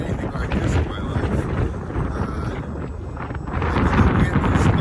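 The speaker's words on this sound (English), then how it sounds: "The wind is amazing." Strong wind gusting at Akureyri, Iceland, roaring steadily across the microphone and swelling louder toward the end, with faint voices in the background.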